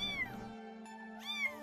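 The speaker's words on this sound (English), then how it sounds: "Inside, nestled beneath the circuits and monitor tubes, is a kitty!" A kitty meows in the video game Arcade Spirits, two clear, high, pitched meows separated by a short pause, close and alone over a faint steady tone.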